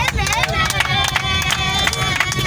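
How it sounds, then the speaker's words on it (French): A church congregation claps and cheers for the Lord in a loud, steady burst of applause mixed with crowd babble and raised voices, with singing or shouting tones running through it. "Acclamons pour le Seigneur."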